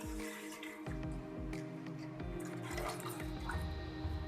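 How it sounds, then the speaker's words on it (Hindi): About two litres of water pour into a cooking pot as the base for chicken stock. It is a close, splashing, gurgling flow with small drips, heard alone without talk. "जो पानी है वो डाल देंगे।"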